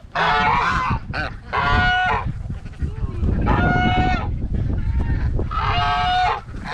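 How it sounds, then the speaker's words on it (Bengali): Ducks on a farm at Andrews Scenic Acres in Canada give loud, nasal honking quacks in four distinct bursts of a second or so, close by, with steady background rustle between the calls. "হাঁসের ক্লক সাউন্ড"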